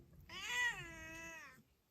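A pet cat gives one drawn-out, close meow lasting over a second, clear and tonal above a low background rumble.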